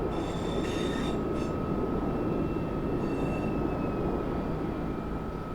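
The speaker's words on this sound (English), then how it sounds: "Another train goes past." A passing train in the Train Sim World game rumbles steadily alongside a Scotrail Class 158 on the Edinburgh to Glasgow line, with a constant hum and brief high wheel squeals, loud and close throughout.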